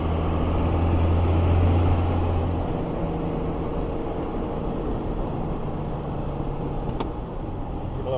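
A first-generation 12-valve Cummins diesel truck with a five-speed manual, heard from inside the cab as it drives, gives a loud, steady low engine drone and road rumble throughout, with no talking.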